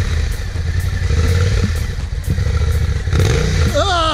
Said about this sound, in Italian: Ma che bella questa moto, Salvatore, è tua?